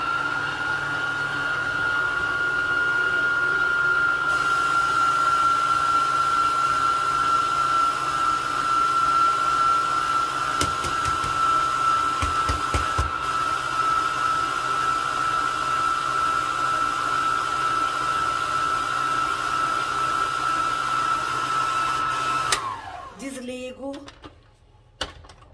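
An electric mixer beats pistachio cake batter at slow speed, a steady close motor hum with a faint high tone that runs continuously, then cuts off and gives way to brief handling sounds.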